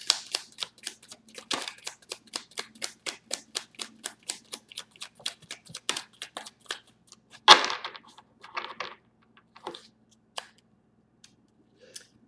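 Tarot cards being shuffled by hand, a fast run of crisp papery riffles and snaps that later slows into a few scattered flicks, close and fairly quiet, with no voices.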